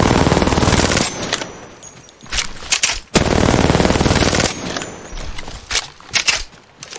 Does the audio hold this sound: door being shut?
no